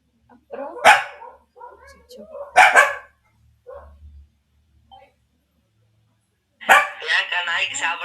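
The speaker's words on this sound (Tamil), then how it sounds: "குலைச்சிட்டு இருக்கு." A dog barks in loud, close bursts, three clustered barks followed by a longer run of barking, with quiet gaps between and people talking in Tamil around it at home.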